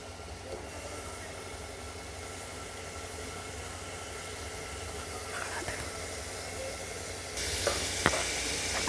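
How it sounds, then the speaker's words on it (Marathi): Tomatoes frying in ghee for hotel-style pav bhaji give a steady, quiet sizzle that grows a little brighter and louder near the end, with no talking. "तर आता तूप घालूया आपण, आणि थोडंसं टोमॅटो पण घालायचं आहे।"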